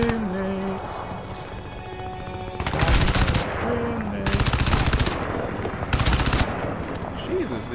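Automatic weapon fire in the video game Crysis 2: three loud sustained bursts of rapid shots over a busy game soundtrack, with a voice speaking over the action.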